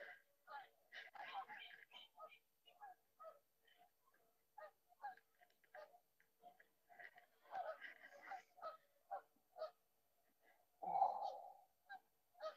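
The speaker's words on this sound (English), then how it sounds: "Oh, now we got geese." A few geese honk faintly in the distance, scattered calls spread across the stretch with quiet gaps between them.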